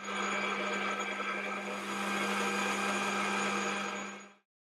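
A metal lathe spins an arbor carrying a dividing disc for a Hemingway kit spring winder, taking a cleanup cut on the outer diameter. A steady, close mechanical hum with a constant motor tone runs throughout, then cuts off abruptly at the end.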